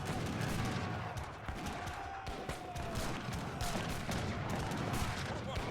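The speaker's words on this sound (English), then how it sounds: "some howitzers coming in here" Howitzer artillery in Age of Empires III booms in irregular heavy bursts amid constant battle din from an eight-player free-for-all match, with loud overlapping impacts throughout.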